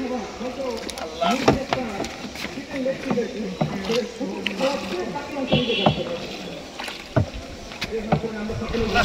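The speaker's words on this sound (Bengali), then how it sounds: "অনেক বছর পরে নদীতে নৌকা চালাইতেছি।" A wooden rowboat is paddled across a river, with oar strokes and water sloshing against the hull in a steady rhythm, close by, while people talk over it throughout.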